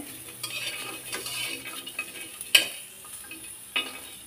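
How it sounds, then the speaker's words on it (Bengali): Green chilies dry-roast in a pan without oil, rattling and scraping as they are stirred, with scattered clinks of a utensil against the metal over a faint background hiss. "আর কাঁচামরিচ এখন ভাজি করে নিতে হবে। এখানেও কিন্তু কোনো তেল অ্যাড করা যাবে না, শুধু এমনি ভাজি করে নেবেন"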